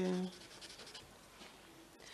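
Soft scratchy strokes of a marker gliding across paper, faint and close, following a brief bit of voice at the very start.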